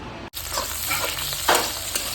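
Onion, pumpkin peel and potato frying in oil give a close, steady sizzle, with a sharp break near the start and a louder scraping stir partway through, without speech.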